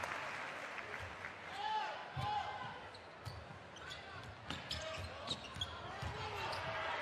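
Home fans at a Basketball Champions League game in Sassari applaud a player heading to the bench, a faint arena crowd mixed with squeaking sneakers and ball bounces under commentary.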